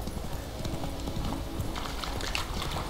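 Steady clip-clop of horse hooves trotting at an even pace in The Witcher 3: Wild Hunt, close by, with ambient noise underneath.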